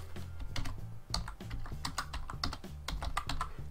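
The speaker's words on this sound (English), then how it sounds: "We're going to click into the search box and type in the word Christmas." Rapid, uneven clatter of keys on a computer keyboard as a single word is typed into a search box, close and steady with bursts of quick clicks and no talking.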